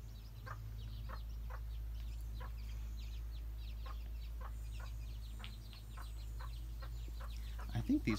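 A proud mother hen clucks softly and repeatedly among her brood of eleven chicks in a backyard coop, a steady run of short, fairly close calls over a low background hum.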